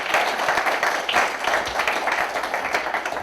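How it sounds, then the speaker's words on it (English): An audience at a school equity community event gives a round of applause, steady and moderately loud massed clapping lasting a few seconds with no talking over it. "So give her a round of applause."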